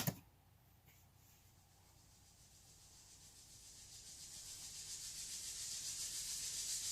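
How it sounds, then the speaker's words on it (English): Airy, shaker-like hiss from maracas in a song rises steadily from faint to fairly loud across the stretch, with a quick rhythmic pulse and no voice over it. "Sounds like maracas."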